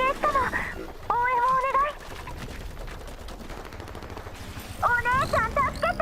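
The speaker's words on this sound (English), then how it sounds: "The sound of gunfire and the roars of elids can be heard through the comms." Rapid automatic gunfire rattles over radio comms in the video game Girls' Frontline 2 Exilium, with bursts at a moderate distance mixed with chirping electronic tones and game ambience.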